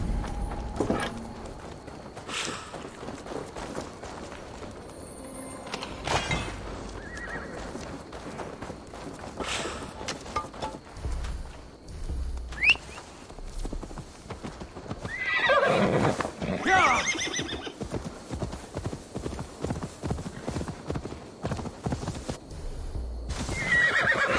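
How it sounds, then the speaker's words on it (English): In Assassin's Creed Valhalla, a horse whinnies loudly among steady clip-clopping hooves, with game music and effects playing underneath and brief voices. "Now to deliver Magni his horse."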